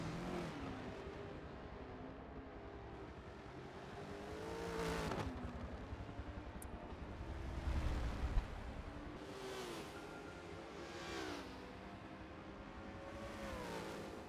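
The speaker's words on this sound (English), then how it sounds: "I do like the sound of that Bentley" A Bentley's exhaust rumbles steadily for the whole stretch, with several rising revs and a louder burst around the middle, all without any talking.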